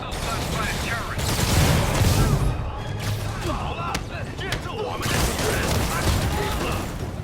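Bursts of gunfire crackle through a Sony Spider-Man video game scene alongside mechanical clatter and booms, dense and busy, mixed with game voices and radio chatter.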